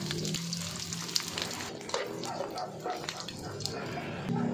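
Dried squid and dried fish frying in hot oil, a steady close sizzle with small crackles and pops throughout, plus a faint hum near the end.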